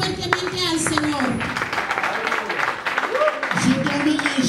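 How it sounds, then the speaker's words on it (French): A church congregation breaks into loud, sustained applause and cheering, with a voice shouting over the clapping throughout. "On acclame très fort le Saint-Esprit."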